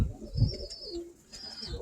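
Birmingham Roller hens coo in low throaty pulses close by, a couple of deep swells and a softer rolling call, with a faint high tone in the background and no voices.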